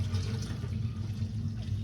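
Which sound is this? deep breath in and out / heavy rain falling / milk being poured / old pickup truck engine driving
milk being poured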